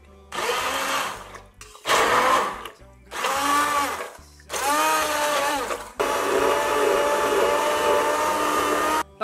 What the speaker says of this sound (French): Et il n'y a plus qu'à prendre un mixeur plongeur et mixer tout ça.